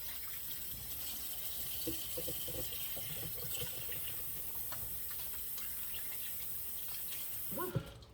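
Tap water runs steadily into a kitchen sink as hands are washed during marinating chicken, a continuous gushing hiss with small clinks and a brief knock near the end, close and fairly quiet.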